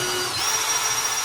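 A power drill whines loudly and steadily at close range while driving screws into a wooden cabinet, with a brief shift in pitch partway through the short burst.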